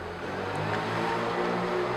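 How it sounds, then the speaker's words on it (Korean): A motorcycle passes outside an open window, its engine a steady, mid-pitched drone that swells slightly as it goes by, muffled and moderately distant with no talk. "밖에 또 오토바이 소리 났죠?"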